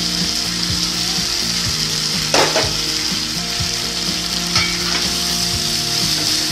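Ground spices frying in oil for a mustard-gravy drumstick curry, a steady loud sizzle with scraping stir strokes and occasional metallic clinks of the spoon against the pan, no voices.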